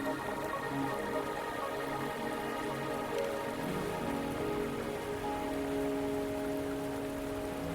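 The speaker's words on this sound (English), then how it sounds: "Are you trapped here by the rain?" Steady rain falls in the video game Wuthering Waves, a dense, even patter on surfaces that holds without a break, with soft musical tones underneath.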